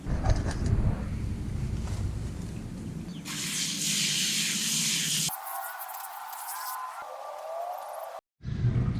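Cleaner foam sprayed onto a grill grate, a close, steady hiss running in sustained bursts of a few seconds each, with short breaks between sprays and a final brief burst after a pause.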